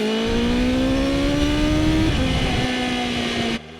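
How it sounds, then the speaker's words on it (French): A BMW M 1000 RR's 1000 cc, 212-horsepower inline four-cylinder engine revs hard with a rising, steady whine, loud, held high for several seconds before cutting off abruptly. "Le 4 cylindres en ligne de 1000 cm3 et 212 chevaux sonne la charge"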